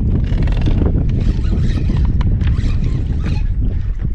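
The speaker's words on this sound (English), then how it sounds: "So it blows right across Lake Ontario, and it ends up coming to us." Strong wind blowing off Lake Ontario at Sackets Harbor, a steady, loud roar buffeting the microphone without a break, with faint water or boat noise beneath it.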